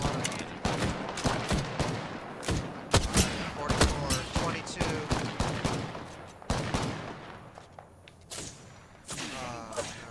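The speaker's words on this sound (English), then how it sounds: "Someone's shooting at us" Enemy gunfire in a shooter game crackles in loud bursts and rapid volleys, sharp repeated shots spread across the whole stretch with short gaps between them.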